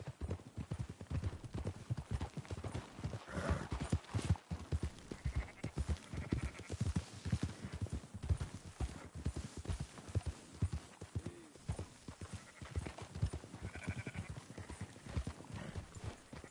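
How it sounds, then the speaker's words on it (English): Horses' hooves clip-clop steadily while sheep bleat and a horse whinnies now and then as livestock are rounded up on a ranch in Red Dead Redemption 2, with a busy, continuous trampling rhythm. "Marston, why don't you leave the sheep to me? You ride Shank, keep watch for any trouble."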